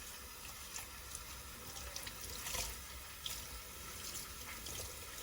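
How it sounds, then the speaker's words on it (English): Tie-dyed fabric is rinsed under a running tap, giving a steady, moderately distant rush of water into a sink with faint splashing and no talk. "You're going to give it a quick rinse."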